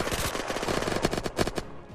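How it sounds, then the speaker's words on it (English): Gunfire in the Unturned game rattles out as a rapid string of close automatic shots with no gaps, loud and sharp, over about two seconds. "They're shooting me through the window"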